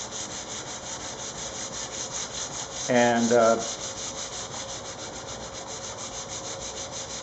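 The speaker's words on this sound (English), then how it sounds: "I'm going to use 220 grit sandpaper, which is quite aggressive, but this is just a scuff sanding" A brief scuffing rasp of 220-grit sandpaper scuff-sanding a guitar body finish rises over a steady mechanical hum, with a single word spoken quietly.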